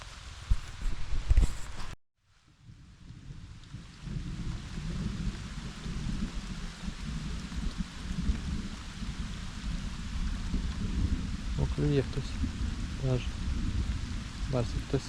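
Rain falling outdoors by a river during a forest fishing trip, a steady hiss of light rain close by after a brief handling noise and a sudden gap at the start, with a few faint chirps later.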